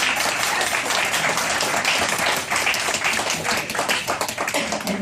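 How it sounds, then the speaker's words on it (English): Audience at a choir concert clapping warmly for the accompanist, a steady, dense round of applause close to the listener that continues evenly throughout. "extra round of applause for our absolutely superb accompanist, Tommy Nemersall"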